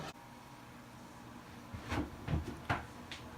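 Oven door creaking open and clunking as a tray of Brussels sprouts goes in during cabin cooking, several soft knocks and thuds in quick succession over a low steady background hum, close by and with no voices.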